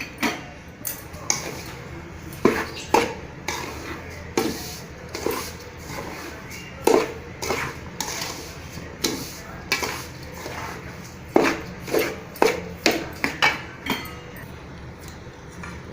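A spoon stirs a rava ladoo mixture with half a kilo of sugar in a pan, making a steady series of metallic clinks and scrapes in an uneven rhythm, close and moderately loud.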